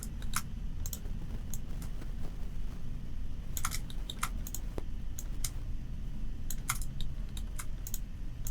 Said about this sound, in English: Hope my keyboard isn't going into the mic too much.